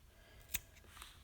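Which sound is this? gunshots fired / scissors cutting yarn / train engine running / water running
scissors cutting yarn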